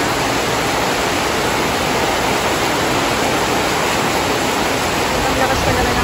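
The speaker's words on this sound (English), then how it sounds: "Ang lakas ko naman ng ulan" Heavy rain pours down steadily in a loud, unbroken hiss and roar that stays even from start to finish, with no other distinct sounds standing out.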